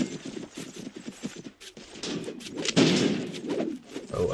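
Video game gunfire crackles in rapid bursts and scattered sharp reports, loud and close, with uneven volume across the stretch.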